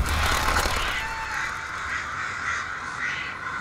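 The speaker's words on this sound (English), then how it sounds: "Birds are a little late in leaving, aren't they?" Crows caw in a harsh, repeated chorus in an outdoor scene from a horror short film, fairly close and continuous with no voices.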